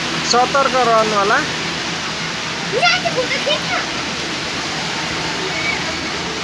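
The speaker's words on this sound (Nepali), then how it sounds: "हावा हुन्डरी आएर चाहिँ बबाल पानी परिरहेछ।" Heavy rain pours down with strong wind on a highway in Pathari, a loud steady roaring wash heard from a house railing, while someone talks over it.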